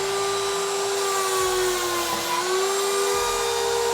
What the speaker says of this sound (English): on the 101 Easy screw pocket machine from Safety Speed